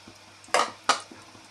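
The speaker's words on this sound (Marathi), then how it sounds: "कांद्याला आपल्याला छानपैकी तळून घ्यायचा आहे" Thinly sliced onions, seven or eight medium ones, go into hot oil for frying, giving two sharp close sizzling bursts a moment apart over a quiet kitchen background.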